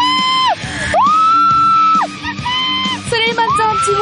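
Several people scream and yell loudly and continuously while riding a zip wire over a bamboo forest at a theme park in Geoje, with sustained high-pitched shrieks rising and falling.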